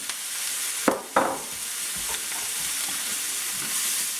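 Onion and mushroom hitting a pan on medium-high heat: a loud, steady sizzle with two sharp bursts early on as they go in and get stirred, then continuous close frying.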